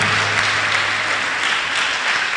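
A church congregation claps continuously in dense, steady applause, even in level and filling the space, with no voice over it.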